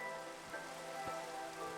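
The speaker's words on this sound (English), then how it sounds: "But listen, I don't need the rain." Minecraft rain falls as a steady soft hiss of drops over a faint sustained tonal hum, quiet and continuous throughout.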